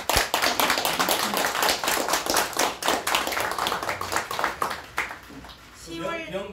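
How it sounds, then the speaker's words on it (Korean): A crowd at a Korean civic political meeting claps in a burst of sharp, close hand claps that thin out near the end, where a voice begins speaking. "박수합시다."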